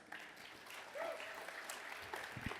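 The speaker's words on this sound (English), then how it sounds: "Let's give him a round of applause." Audience clapping for a speaker taking the stage at a lightning talk session, a fairly quiet, even patter of applause lasting a couple of seconds with faint room murmur.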